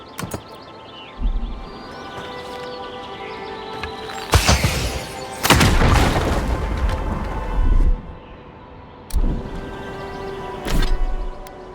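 A barrel is shot and explodes in the video game Avowed, heard as several loud, booming blasts with crackling debris over a steady game ambience, each burst fading back before the next.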